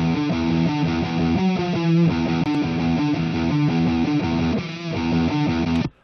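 Electric guitar recorded direct, with its bridge and neck pickups split to separate outputs and panned hard left and right, playing a steady, slightly distorted chordal riff for about six seconds before stopping abruptly.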